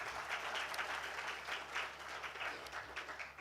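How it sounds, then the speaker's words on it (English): An audience claps steadily through a lecture introduction at a university public lecture, a continuous wash of applause at moderate distance with no pause. "And before I formally introduce Shashi, yes, of course, a round of applause."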